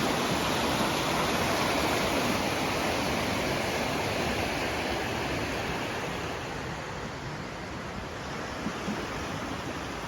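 River rapids rush in a dense, constant roar of churning water, loud and close, easing slightly toward the end.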